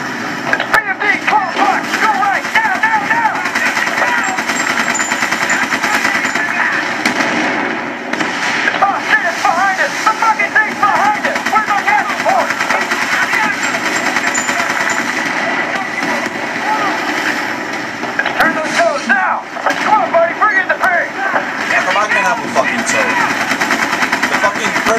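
Machine gun fire in the Battlefield Bad Company 2 campaign, sustained rapid bursts rattling almost continuously over battlefield din, with voices heard now and then.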